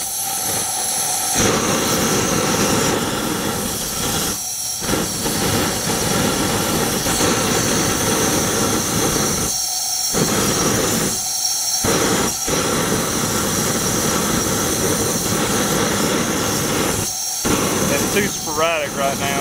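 A blast forge runs with its air and fuel turned on, making a loud, constant roaring rush broken by a few abrupt short dropouts, with someone talking over it.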